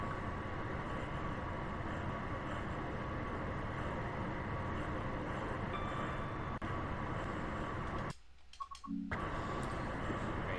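Scotrail Class 380 electric train in Train Sim World 4 running steadily with a continuous broadband rumble and rolling noise, loud and even throughout, with a brief sharp dropout near the end before the running sound resumes.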